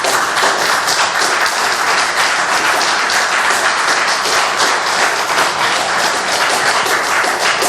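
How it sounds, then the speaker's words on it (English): An audience at a historic preservation committee meeting about saving the Madison Theater breaks into loud, sustained clapping, a dense unbroken roar of many hands at even volume for several seconds. "Please, let's keep the clapping to the minimum."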